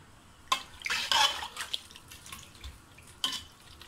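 Water is poured into a pot of mutton ojri in a home kitchen, arriving in a few short, splashy bursts that are close and fairly quiet.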